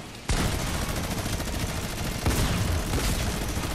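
Loud, sustained burst of rapid gunfire in the video game Fortnite begins abruptly after a short quiet moment and roars on for over three seconds with a slight surge midway, and no voices are heard.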